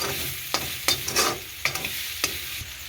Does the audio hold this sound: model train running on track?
no